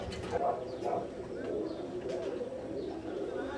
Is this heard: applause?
no